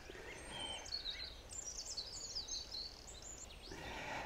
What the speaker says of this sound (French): j'espère que vous entendez tous les chants d'oiseaux sur cette petite route